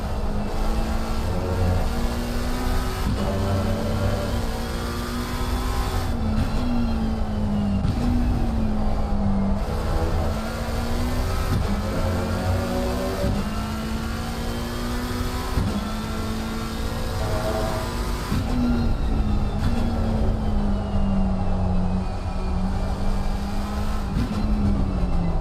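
A GT race car engine heard on board around the Paul Ricard circuit in a racing video game, loud and continuous, climbing and dropping through the gears with repeated rev rises and shifts and no talk.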